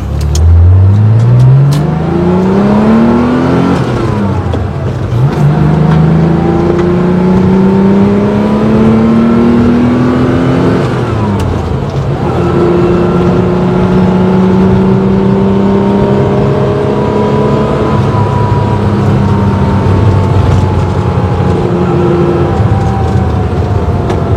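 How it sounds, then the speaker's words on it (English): A car accelerates hard on an open road, its engine rising in pitch through several gear changes and climbing again after each shift, loud and close throughout. "Now we have some clear roads ahead, so let's show you guys what this car got."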